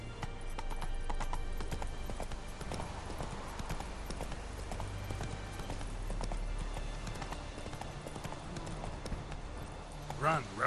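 Roach the horse galloping at speed in The Witcher 3, continuous fast clip-clop hoofbeats close and prominent throughout, with a voice speaking over the run and a sharper burst near the end.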